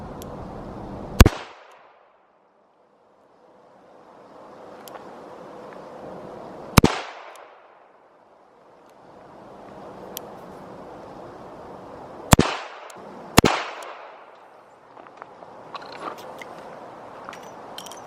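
A Smith & Wesson Model 38 snub-nosed .38 revolver fires four sharp, loud shots, each with a brief echoing decay. The first three are several seconds apart and the last two come close together.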